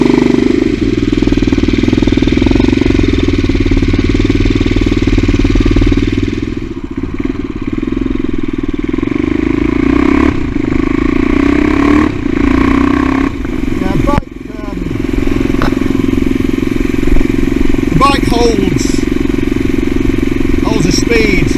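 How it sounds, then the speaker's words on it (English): CCM Blackout motorcycle engine running steadily on the road, a loud continuous mid-range drone with slight throttle changes and brief dips, rider's voice occasionally over it. "The bike has got a really excellent throttle response, sounds great too"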